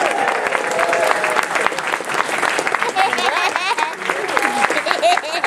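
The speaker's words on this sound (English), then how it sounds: "A round of applause for the Body by the Bookshelf team" Audience applause at a convention closing ceremony, a close crowd clapping steadily with whoops and cheers mixed in and some voices calling out over it.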